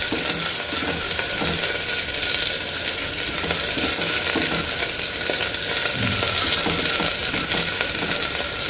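Green chillies frying in a hot pan for Telugu-style masala kichidi, giving a steady, close sizzle with bursts of stirring and scraping throughout, no talking.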